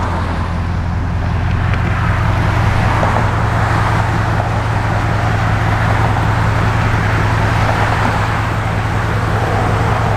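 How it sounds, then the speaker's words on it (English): A 1967 Chevrolet Corvette mid-year with side exhaust runs at a steady idle, a loud, continuous low rumble close by with no voices over it. "Nothing sounds like a mid-year with side exhaust."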